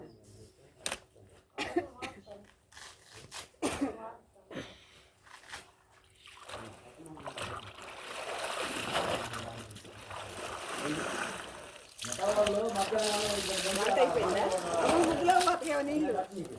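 Water splashes and sloshes as clothes are washed by hand with plenty of water, in irregular wet bursts building to steady sloshing near the end, with voices talking over it.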